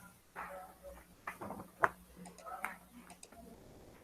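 A computer keyboard clicks during an online physics lecture: scattered, quiet taps and ticks in an irregular rhythm with a sharper click near the middle, close to the microphone over a low hum.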